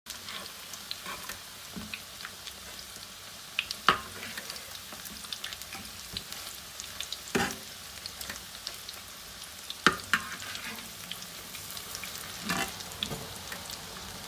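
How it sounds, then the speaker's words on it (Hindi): Potato cheese pancakes fry over medium heat in a pan, giving a steady close sizzle with scattered crackles and pops throughout, no voices. "हम लोग इसको दरमियानी आंच पर फ्राई करेंगे"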